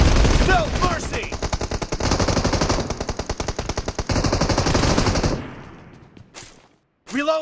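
An M416 rifle fires sustained automatic bursts in PUBG Mobile, loud and near, the rattling volleys running for about five seconds before fading out, followed by a short final burst.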